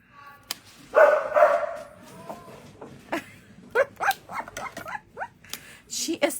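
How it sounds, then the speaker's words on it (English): A greyhound barks loudly in a rapid run of yips and barks close by, with a whimpering edge and a voice talking over it. "She is such a loud dog."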